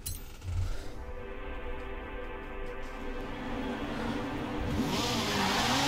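A Lego Speed Ferrari in Forza Horizon 4, engine note droning steadily and building in pitch and loudness as it revs up, close and continuous with no pauses.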